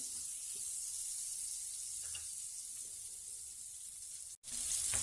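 Butter sizzling in a hot kadai for tawa pulao, a steady, faint, close hiss of frying fat that continues unbroken except for a brief drop near the end.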